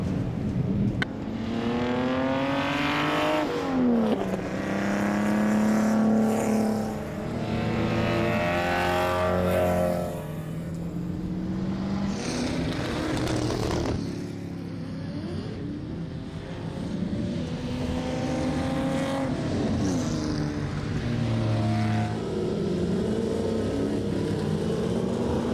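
Historic sports sedans racing on a circuit, several loud engines passing one after another with rising and falling revs, Doppler sweeps and gear changes, some close and some farther off.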